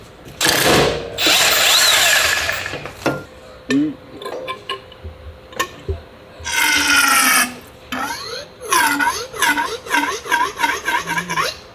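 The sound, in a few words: power tool unscrewing the bottom bolt of KTM 500 suspension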